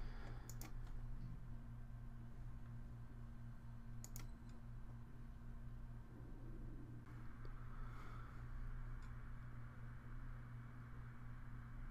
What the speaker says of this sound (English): I'm actually going to type XMing download.